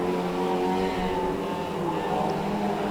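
Pro stock race cars roar around the oval at Cowdenbeath Racewall, with a continuous blend of several engines at high revs heard from trackside and no break in the noise.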